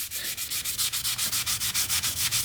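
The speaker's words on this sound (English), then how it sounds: "I will take some WD-40 and wipe it off." A cloth soaked in WD-40 wipes surface rust off a high carbon steel knife, making quick, rhythmic rubbing strokes about six per second, close and fairly quiet, with no voices.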